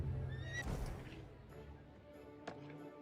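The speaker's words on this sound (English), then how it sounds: "let's get on the horse first before I do anything stupid." A horse in the video game Quinfall lets out a loud whinny early on, followed by quieter shuffling and a sharp tap near the end.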